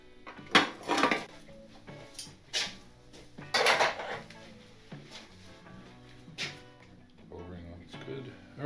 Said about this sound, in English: Let's pull the guards off and see what we got.